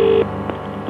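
An answering machine plays its electronic tones: a clear steady beep that cuts off sharply, followed by short faint blips over a low background hum.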